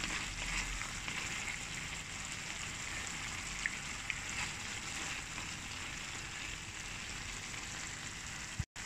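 Tuyo, salted dried fish, fries in oil with a steady dense sizzle, faint and even throughout, broken by a few tiny pops and a brief clatter near the end, with no one talking.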